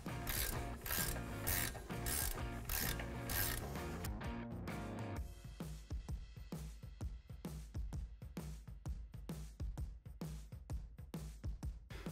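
A wrench tightens a ball joint nut on a 2021 or later Ford Bronco while a leveling kit is fitted. Quick rapid ratcheting comes first, then slower, distinct clicks spaced evenly.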